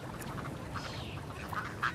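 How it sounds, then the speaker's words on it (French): Ducks quack a few times at close range over a soft outdoor background, with brief nasal calls scattered through the moment. "Ils ne demandent rien, ces canards."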